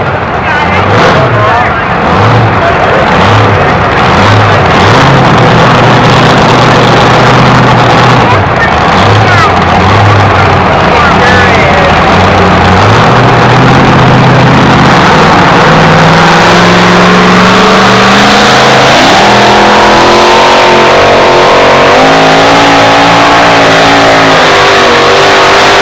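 A Ford F-150 two-wheel-drive pickup at a 1991 truck pull in Tomah, Wisconsin, its engine idling and then revving with rising pitch, loud and steady throughout, beneath a public-address announcer speaking.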